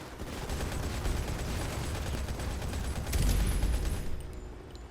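Rapid, dense gunfire in a VR shooter game played on an Oculus Quest, sustained and loud throughout with a heavier burst near the end, no talk.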